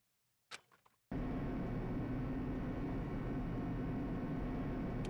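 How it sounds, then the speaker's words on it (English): Elevator in the video game Danganronpa: Trigger Happy Havoc: a sharp clunk, then a sudden loud, continuous mechanical rumble that drones on steadily, close and overwhelming, with no talking. "This time, the clunking was loud enough to hurt my ears"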